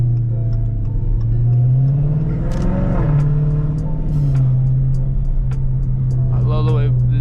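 A Dodge SRT Scat Pack V8 drones loudly from inside the car while driving, rising into a rev around the middle before settling back to a steady low rumble, with voices talking over it.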